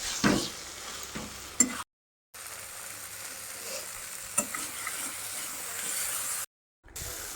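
Prawns and bottle gourd stirred in a pan for lau chingri, a steady sizzle and frying hiss with a few sharp scrapes of the spatula, broken by two short silent gaps.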